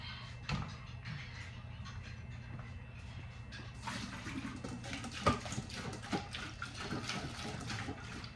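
Water runs from a tap into a dog's water bowl with splashy, uneven flow, alongside a few clinks and knocks nearby.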